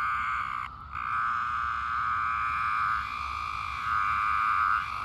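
A periodical cicada giving its distress call, a steady, loud, buzzing drone held close and alone, with slight swells in intensity and one brief dip.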